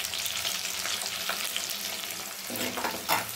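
Green chili and garlic fry in hot oil with popped mustard seeds for an anchovy fish curry, a steady close sizzle broken by a few scraping stirs and a louder burst near the end, with no speech.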